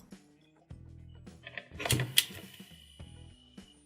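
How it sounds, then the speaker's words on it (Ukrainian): A Wi-Fi smart camera screwed into an E27 lamp socket through an adapter gives a few sharp mechanical clicks after power-on, then a soft motor whir as it rotates and settles back, close and fairly quiet. "Після підключення живлення в камері щось клацає, потім вона обертається, ніби орієнтуючись у просторі, і повертається у вихідне положення."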